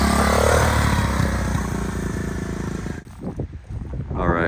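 Mini bike engine on a woodland trail ride at a northern Michigan cabin, a loud close droning motor that drops away abruptly near the end, leaving rustling and faint passing engine noise.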